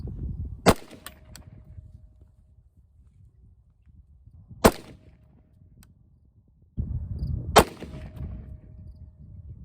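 Three sharp rifle shots from an AR-15 or Weatherby Vanguard ring out at an outdoor shooting range, spaced several seconds apart, each with a short echoing tail over quiet background.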